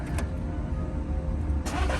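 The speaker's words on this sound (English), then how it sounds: "we're about to start the car just to make sure everything works" A Volkswagen Golf R MK7 engine cranks and catches, a steady low idle rumble filling the short span with a brief sharper burst near the end.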